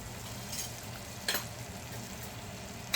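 Halibut sears in a pan of garlic butter with rosemary and thyme, giving a soft, steady sizzle close by with a couple of brief crackling spikes and no talking.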